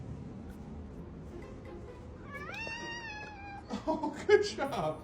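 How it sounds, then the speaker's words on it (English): A house cat meows with a rising, drawn-out call mid-clip, followed by several short chirps and rustling close by, while a person talks softly in the background. "193 of my cat trying to scare me."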